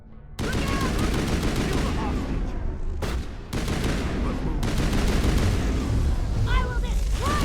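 Heavy gunfire blasts at terrorists in a Mass Effect firefight, continuous loud shooting with short pauses and explosive hits, close and dense throughout.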